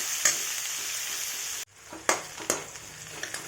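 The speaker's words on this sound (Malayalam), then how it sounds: "സവോള, വെളുത്തുള്ളി ഇതെല്ലാം ഇട്ട് കൊടുക്കുക. നന്നായിട്ടൊന്ന് ഇളക്കുക." Chopped onion and garlic sizzle steadily in a pan for a Kerala-style spinach thoran, then a spoon stirs them with a few scraping knocks, close and alone without speech.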